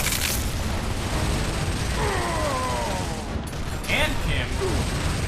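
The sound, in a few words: frag grenade explosion in video game Gears of War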